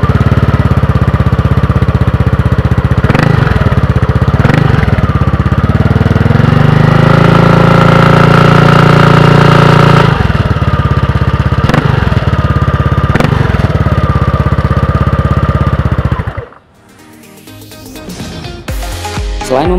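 Modified 2019 Yamaha Aerox scooter engine runs loud and close, a steady droning rev with a few sharp throttle blips and a rising tone mid-run, then cutting off abruptly near the end.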